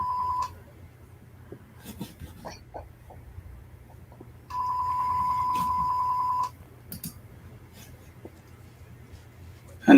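A fax machine rings with a steady electronic tone, one short burst, then a longer two-second ring, over a low hum, quiet clicks and scratchy drawing sounds.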